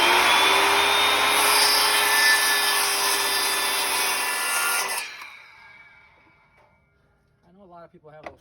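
Circular saw set to about 1.25 inches depth ripping a 3/4-inch MDF board freehand for a radiator cover; loud close whining cut for about five seconds, then the blade spins down, followed by someone speaking.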